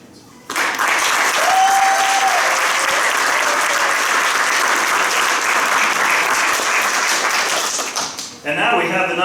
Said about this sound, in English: I just want to have a nice round of applause to all of the award winners and the nominees tonight